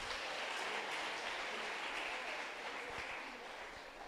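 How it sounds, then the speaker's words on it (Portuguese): A church congregation at a Sunday service applauds in a steady, dense wash of clapping that holds evenly for several seconds and tapers slightly at the close, heard from some distance. "Dê uma salva de palmas para Jesus"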